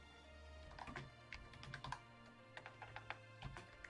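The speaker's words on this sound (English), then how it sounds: "I am typing in chat." Keys clatter in quick irregular bursts on a computer keyboard while someone types a chat message during an online tabletop game session, close and moderately quiet over a low steady hum.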